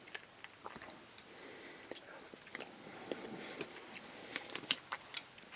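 Someone eats cold Heinz Beanz chilli straight from the can. The close, quiet chewing and biting is broken by small clicks and soft breaths, with no talk.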